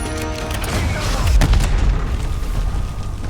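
Heavy mortar blasts in the Call of Duty: Black Ops 6 battlefield, deep booming impacts over dense gunfire and combat noise, one loud thump standing out midway through the barrage.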